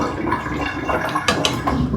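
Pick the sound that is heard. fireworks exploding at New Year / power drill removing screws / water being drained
water being drained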